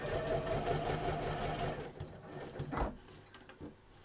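Steady close whirring from a sewing machine stitching in cream thread around the edge of a fabric luggage tag, stopping midway and followed by a few soft clicks and handling knocks.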